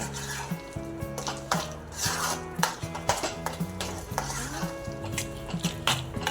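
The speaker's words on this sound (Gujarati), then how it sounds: "વ્યવસ્થિત મિક્સ કરી અને 1 મિનિટ સુધી આપણે હલાવવાનું છે" A Parle-G biscuit peda mixture is stirred in a pan, producing steady scraping and rubbing with intermittent clinks of a spoon against metal, close and fairly quiet.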